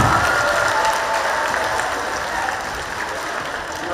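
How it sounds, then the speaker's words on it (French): Festival panel audience applauding, a broad sustained round of clapping from a crowd in a hall, loud at first and easing slightly. "Est-ce qu'on va applaudir?"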